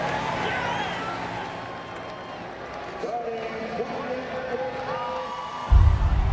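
A large crowd of about 160,000 cheers at Bristol Motor Speedway for Dale Earnhardt Jr. after his night race win, a steady roar with whoops under a commentator's voice.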